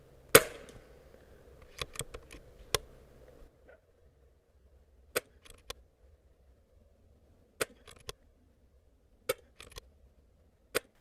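Daystate Huntsman Revere .22 PCP air rifle firing slugs: a series of sharp, isolated cracks, about eight or nine shots spaced a second or more apart, close and clear over near silence.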